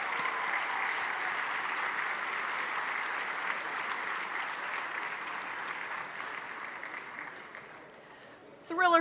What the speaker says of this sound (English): Let's just give them one rousing round of applause